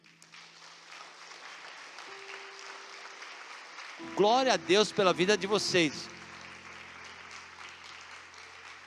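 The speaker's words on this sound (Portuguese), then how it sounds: "Eu queria pedir uma salva de palmas para esse povo aí." A church congregation claps for its deacons and volunteer helpers standing up, a steady wash of applause running throughout while a voice speaks loudly over it midway.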